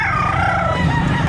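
A rooster crows at a Saturday chicken market behind SM City Lipa in Batangas, one loud, close, drawn-out call over busy outdoor background noise.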